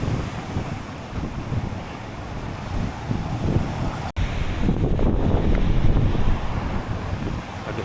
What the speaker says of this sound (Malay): Dan ombak di sana memang kuat sekali.